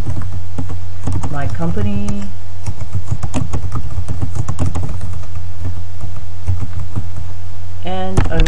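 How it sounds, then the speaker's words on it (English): Computer keyboard typing heard as scattered soft key taps under a loud, steady low hum, with a person talking over part of it. "I'm going to type in my name"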